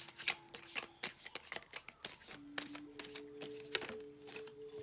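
Tarot cards shuffled and drawn by hand, a run of crisp riffles, flicks and soft slaps in irregular bursts, close and fairly quiet, with no talk.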